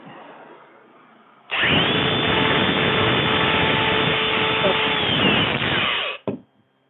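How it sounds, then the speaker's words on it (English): A power sander whirs loudly and steadily on wood for an end table for several seconds, starting abruptly and cutting off near the end, close by, no talking. "I'm going to start the other sanding"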